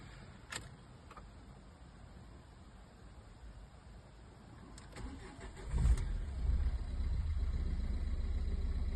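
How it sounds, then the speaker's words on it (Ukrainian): Cold 2015 Renault Fluence engine cranks and starts after a few soft clicks, then settles into a steady low idle, heard close and fairly quiet with no talk. "Двигун працює рівно, навіть на холодну, не димить, ніяких нарікань."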